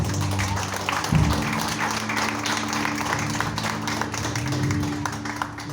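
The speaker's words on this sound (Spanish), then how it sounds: "Dale otro aplauso al Señor" A church congregation claps for the Lord in a sustained round of applause, steady and fairly loud throughout, with a low musical tone humming underneath.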